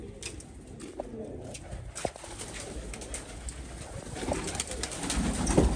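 Pigeons coo softly and repeatedly as grain is scattered out for them, the throaty calls overlapping with light rustling and growing a little louder toward the end.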